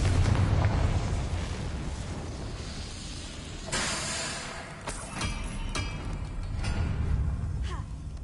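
Confringo spell blasts in Hogwarts Legacy burst in loud fiery booms over a rumbling battle bed, with several sharp cracks and crackling follow-ups scattered through the stretch.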